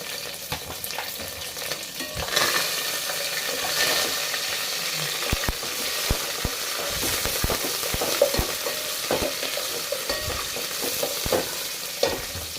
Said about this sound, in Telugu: పుదీనా కరివేపాకు పచ్చిమిర్చి వీటిని బాగా ఫ్రై చేసుకోవాలి